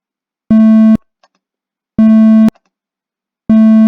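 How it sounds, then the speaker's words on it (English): A micro:bit plays a 220 Hz tone: three clean, steady beeps, each about half a second long, evenly spaced with silence between and nothing else heard. "When I press pin P1, my microbit will then show me the icon and play this sound 220 for 1 beat."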